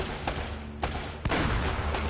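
Shotgun blasts in the video game Uncharted: Drake's Fortune, roughly four sharp loud shots spaced about half a second apart over dense game background noise.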